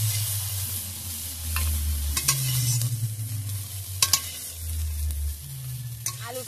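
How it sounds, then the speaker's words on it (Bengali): Potatoes sautéing and being stirred in a pan after shrimp was fried, a steady close sizzle with scraping stirs and a few sharp clinks of the utensil against the pan. "আলুটাকে একটু কষিয়ে নেব।"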